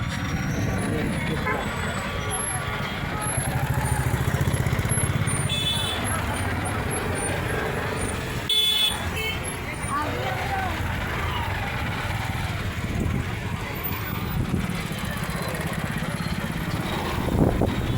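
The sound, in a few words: traffic jam with cars and motorcycles on a Bhubaneswar street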